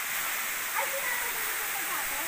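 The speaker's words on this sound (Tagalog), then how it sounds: "Ayun ang taas ng falls." A waterfall roars as a broad, steady rushing hiss, loud and unbroken for the whole moment, with faint voices barely showing beneath it.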